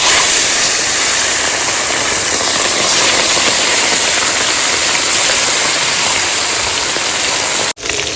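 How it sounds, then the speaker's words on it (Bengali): Loud, steady sizzling hiss of river fish frying in hot oil, continuous and close, with a brief dip near the end. "তেল গরম হয়ে গেছে এবার দিয়ে দিলাম মাছ"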